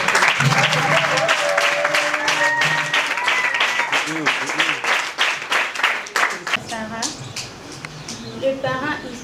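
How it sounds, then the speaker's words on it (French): Applause from an audience at a Kinshasa community event, a steady wash of clapping that fades into scattered claps, with voices and chatter running underneath throughout. "Est-ce qu'on peut applaudir?"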